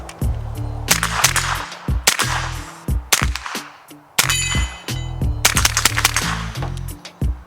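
A suppressed 9mm Military Armament Mac IX submachine gun fires close by in quick bursts and single shots, each a sharp, clanging crack with metallic action noise, separated by short gaps.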